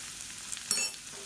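Salted green beans frying in oil while being stirred in a pan: a constant close sizzle with a scraping stir swelling briefly partway through, no talking.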